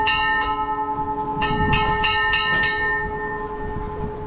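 Church bells ring for Easter at the Radonezh church, a quick series of bright, overlapping strikes over a steady low hum, the ringing thinning out and fading toward the end.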